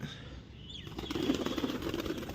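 Pigeons burst into flight from a rooftop with a rapid flurry of flapping wings, close by, following a brief quiet moment.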